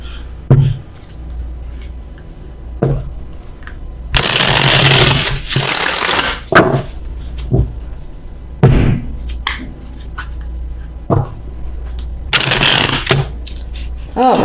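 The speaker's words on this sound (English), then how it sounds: "If I can shuffle." Bursts of tarot cards being shuffled, two long riffles of crisp fluttering noise with scattered taps and handling clicks between them, close up.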